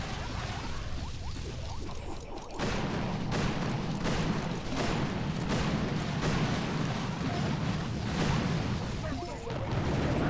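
Artillery barrage firing in the Boom Beach mobile strategy game, a dense run of overlapping booms and crashes that rolls on almost continuously, loud and busy throughout, with a voice briefly heard.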